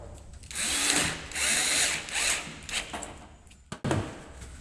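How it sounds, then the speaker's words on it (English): A power drill drives screws into a Fender guitar part in several bursts of a few seconds each, close and loud, with short pauses and a clatter near the end. "get my screws and my drill all ready to go."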